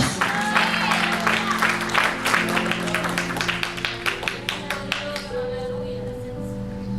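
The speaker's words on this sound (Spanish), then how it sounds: "Dele ese aplauso al Señor" A church congregation claps rhythmically to praise God during a sermon, loud and steady with organ or keyboard tones underneath, tapering off toward the end while a voice speaks.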